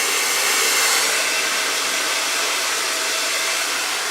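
A hair dryer blowing hair around during a second-day hair routine, a steady, loud, airy whoosh that runs unbroken for about four seconds with no talking.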